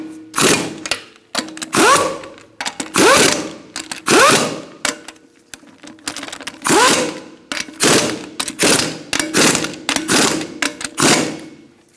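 Mechanical ratcheting bursts from tightening the wheel lug nuts on a 2002-2006 Honda CR-V after a front lower ball joint job, a dozen or so loud rattling runs in quick succession, close up, no talking.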